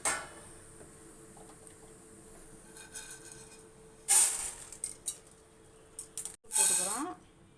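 Roasted idli podi ingredients are tipped and scraped out of a pan, giving two short bursts of gritty rattling and scraping against metal that stand out from a quiet background.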